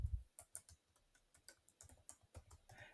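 Someone typing a search term into a design tool on a computer keyboard, a series of distinct, uneven key taps heard up close and fairly quiet, with no voices.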